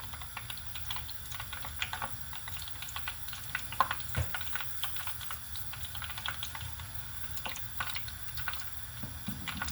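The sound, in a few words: crumb of dough dropped into hot frying oil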